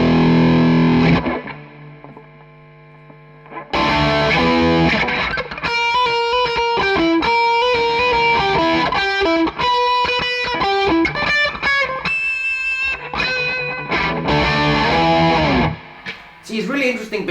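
Distorted electric guitar playing a song, likely a Gibson Les Paul or Nash guitar, loud and close with sustained chords and melodic runs through effects, a brief quieter pause near the start.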